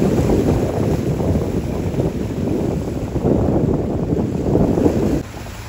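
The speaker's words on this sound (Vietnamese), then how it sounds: "ghe đang đi biển vô" A fishing boat's engine rumbles steadily as it heads in from sea near the fishing village of Phan Rí Cửa, a low, loud drone mixed with buffeting wind and water noise that eases near the end.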